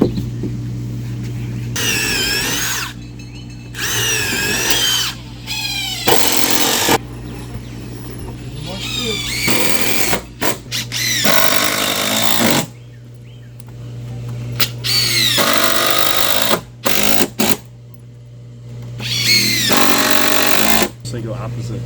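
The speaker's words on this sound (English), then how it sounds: "that allows me to put these screws in" Power drill driving screws into pool deck boards during a resurfacing job, in repeated loud bursts of several seconds each with short pauses between them, and a person talking in some of the gaps.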